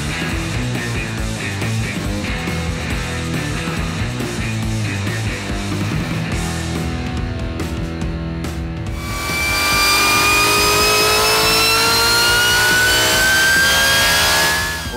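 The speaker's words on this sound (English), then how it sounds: "Today on the dyno, we have made the most power ever with our TVS2650 Supercharger." A supercharged small-block Ford Clevor V8 roars steadily on a dyno, building to a louder, rising high-pitched supercharger whine partway through.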